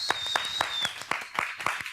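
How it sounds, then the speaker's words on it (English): Applause from an audience at a live show, heard as a fairly sparse run of distinct claps that sound like a small group, with a faint steady whistle-like tone running beneath them. "Please, can we give him a beautiful round of applause"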